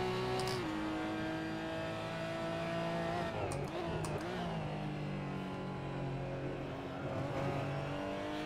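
A race car engine in a sim racing game drones steadily throughout, its pitch climbing and dropping with gear changes and revs through a corner, loud and close with brief tire squeal, no talking.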